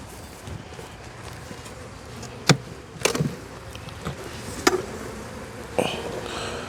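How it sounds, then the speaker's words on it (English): Honey bees buzzing around the top of a hive box during a colony inspection, a steady close droning hum punctuated by a few sharp knocks and clunks of equipment. "There's a lot of bees up in the top."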